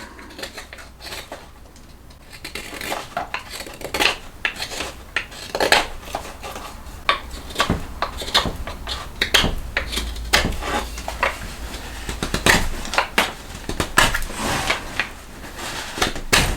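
Knife carving and smoothing the bottom of a cherry wood spoon bowl, heard as a steady run of short, crisp scraping and slicing strokes, close and fairly quiet, with no talk.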